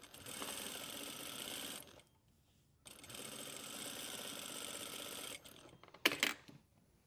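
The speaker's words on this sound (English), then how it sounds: "That's our single needle, our edge stitch." A sewing machine sews a single-needle edge stitch 1 millimeter from a fabric edge, running in two steady whirring bursts separated by a short pause, then ending with a few sharp clicks.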